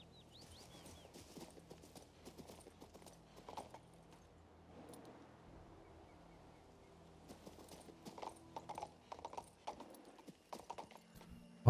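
Roach the horse trotting in King's Bounty 2, a steady run of light clip-clop hoofbeats over a faint ambient bed, growing busier and louder toward the end.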